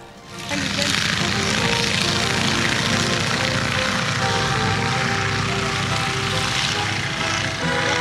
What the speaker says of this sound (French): Des moranes saulniers à ailes parasol s'apprêtent à décoller.